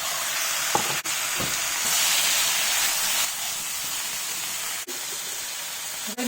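Mutton pieces hit a hot pan already holding turmeric and crushed dried mint, setting off a loud, steady sizzle and hiss that swells briefly, with a few clinks of a spoon against the pan and no voices.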